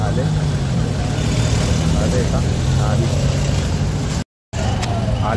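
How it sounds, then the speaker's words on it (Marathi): Several vehicles arriving for a politician's visit at a Shiv Sena branch opening in Bhiwandi, engines running steadily close by with a continuous low rumble, a crowd talking over it and a brief dropout near the end. "आवाज येतोय पक्का आवाज येतोय गाड्यांचा आवाज येतोय"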